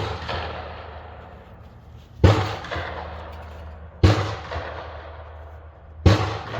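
Three loud rifle shots from a rifle fitted with a Monstrum Hornet 6-24x50 scope, fired at 50 yards on an outdoor range, each sharp crack trailing into a long echoing decay, spaced about two seconds apart.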